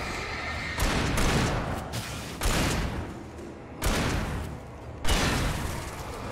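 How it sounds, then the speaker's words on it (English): A shotgun fires four times at roughly even intervals in Alan Wake Remastered, each blast loud and booming with a long rumbling tail that fills the gap before the next shot. "Yeah, this shotgun absolutely sucks."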